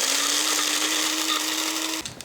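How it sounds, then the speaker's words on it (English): An electric spice grinder whirs loud and steady with a high motor whine as it grinds sugar, coarse salt and Szechuan peppercorns into a powder for roast pork, then cuts off abruptly near the end. "Now I just cover it, press it down and grind it."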